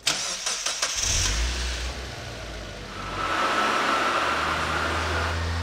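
A Mazda Miata spec class race car on a chassis dyno cranks with a few quick starter clicks and fires within a second into a close, rumbling idle, then the engine rises to a steadier, higher revving drone.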